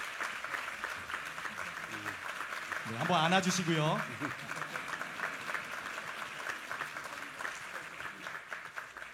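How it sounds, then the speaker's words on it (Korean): Church congregation applauding at a New Year's Eve service as elders present flowers, steady moderate clapping with a voice speaking briefly over it. "박수하겠습니다."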